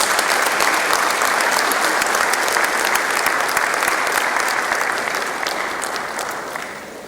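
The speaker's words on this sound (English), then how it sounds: "Please let's give him a big round of applause." A town hall audience on security with the governor applauds a doctor being honoured, sustained dense clapping from a large crowd that stays steady and loud before tapering slightly at the end, with no talk over it.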